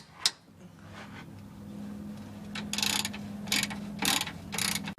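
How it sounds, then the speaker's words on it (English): A ratchet with a 15mm socket works bolts loose on a Ford Mustang during clutch and flywheel work, making a few close bursts of rapid clicking over a low steady hum, with no voices. "We're taking a 15mm socket, and it's very simple. Just the bolts come out"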